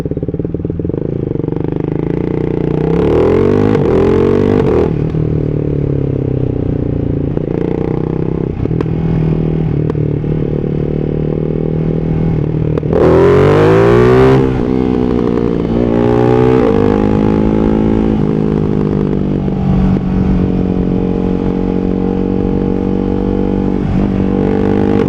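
A Ducati Hyper 698 motorcycle fitted with a Termignoni full race exhaust, ridden with a loud, steady engine drone that swells in several revving bursts and gear changes, close and constant throughout.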